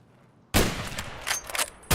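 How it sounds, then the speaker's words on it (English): A flashbang grenade goes off in Escape from Tarkov: an abrupt loud bang followed by crackling bursts and ringing, then another sharp loud hit at the end. "That's a flashbang!"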